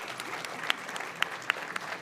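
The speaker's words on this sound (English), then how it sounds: "Huge round of applause" An audience claps after a combined music and dance performance at a cultural event, a fairly soft, continuous patter of many hands with a few sharper individual claps standing out.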